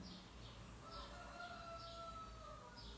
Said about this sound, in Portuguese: E o galo cantando 15 para as 11 da manhã?